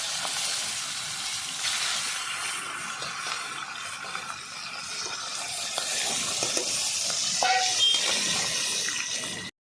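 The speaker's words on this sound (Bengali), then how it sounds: "এই যে এবার গোটা মাছটা ভেজে নিচ্ছি" Whole tilapia fish frying in a hot wok, a loud, steady hiss and sizzle filling the clip close up, with faint clinks and no talking.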